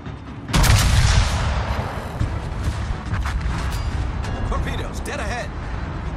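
Naval guns boom in a rapid volley in the World of Warships game, a heavy burst followed by rumbling and scattered blasts, with voices calling out commands over the battle.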